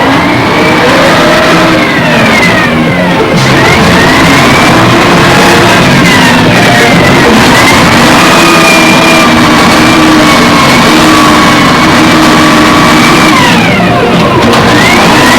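A wheel loader's diesel engine runs loud and close while the machine reverses and turns, its drone rising and falling in pitch with revving sweeps throughout, with no talking over it.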